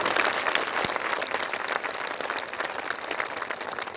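An audience at a Brahma Kumaris bhoomi pujan and dedication ceremony applauds in a steady, sustained wash of many hands clapping, loud and continuous with no voices over it.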